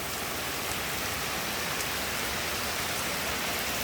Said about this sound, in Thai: วันนี้ฝนตกเยอะครับ